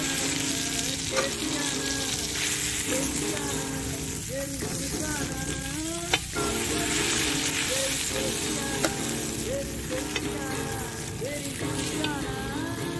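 Garfish (kalinga fish) frying in oil in a pan, a steady dense sizzle that runs the whole time with faint clinks and scrapes of a utensil, close and fairly loud, no talking.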